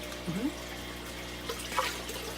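Water poured from a container onto a rock in an axolotl tank, a steady splashing trickle close by, with a brief voice in the background.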